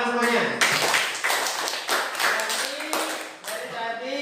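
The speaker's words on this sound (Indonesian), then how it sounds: "Ya, tepuk tangan semuanya." Students in a classroom break into brief, scattered clapping that swells and fades in short bursts, with a teacher's voice speaking over and between the claps.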